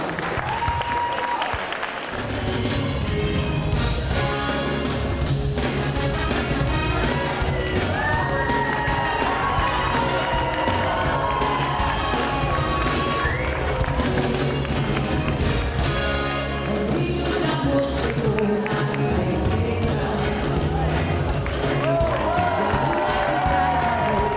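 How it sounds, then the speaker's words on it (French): Loud audience applause and cheers for ten Miss Beaujolais 2011 candidates in evening gowns, continuous and lively, with music playing underneath and scattered shouts throughout. "Merci de les applaudir bien fort, les 10 candidates en robe du soir."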